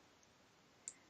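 A computer mouse click during a shift-click: a faint tick followed by a sharper, louder click near the end, close, over quiet room background.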